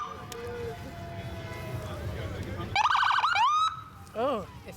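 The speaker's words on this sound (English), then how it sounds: "Middlesex London paramedic service ambulance" A Middlesex London paramedic service ambulance siren passes during the Hyde Park Santa Claus parade, loud rising-and-falling wails and a short yelp burst, following crowd noise and a parade commentator talking.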